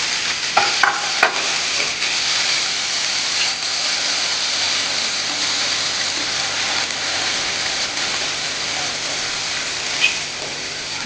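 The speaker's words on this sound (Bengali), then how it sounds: "আমি ভেজিটেবিল অ্যাড করে দেবো এবার।" Vegetables are stirred into a frying pan of garlic and onion for a chicken Alfredo white sauce pasta, giving a steady, loud sizzle with brief scraping clicks from the utensil throughout.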